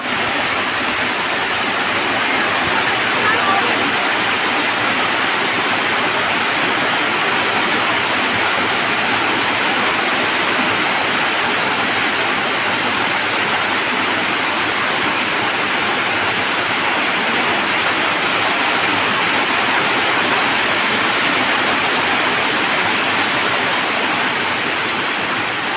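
Heavy rushing water pours steadily during a typhoon, a loud continuous broadband roar like a waterfall or swollen stream, close by and unbroken with no talk.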